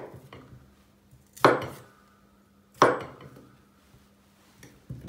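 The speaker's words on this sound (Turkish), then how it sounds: "Patatesi de 8'e böldüm." A knife cuts potatoes into eight pieces on a board, two sharp, ringing chops a little over a second apart, with softer taps and handling sounds before and after in a quiet kitchen.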